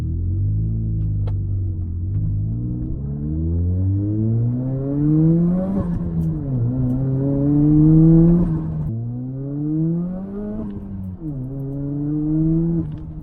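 A turbocharged Toyota Corolla with electrical issues accelerates on a test drive. Its engine drones and climbs steadily in pitch, then drops at each gear shift, repeating several times as a loud, continuous rumble.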